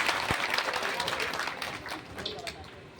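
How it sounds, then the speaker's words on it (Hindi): An audience at an Arya Samaj bhajan gathering in Prathvipur Navadiya claps to welcome Om Prakash Arya, a dense, lively burst of applause that gradually fades, with a voice faintly underneath. "मैं चाहूंगा एक बार उनके नाम का जोरदार ताली बजा करके आप"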